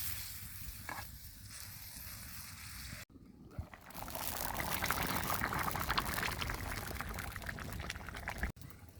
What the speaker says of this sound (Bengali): তরকারিতে বলকায় পড়ছে